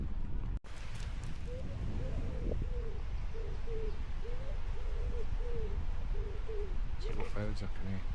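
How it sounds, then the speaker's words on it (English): Common wood pigeons coo in a soft, repeated rhythmic series during a morning walk through a cemetery, moderately distant, with quiet talking and a sharp knock near the start. "Birds up in here."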